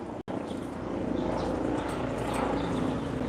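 Helicopters circle over a rooftop in China, heard as a continuous moderate rotor drone with a faint fluttering pulse and no speech.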